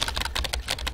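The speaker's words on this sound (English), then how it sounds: "It's typing, yeah, it was." Rapid keyboard typing from the video game Emily is Away, a close, steady patter of clicky keystrokes throughout, with no voice.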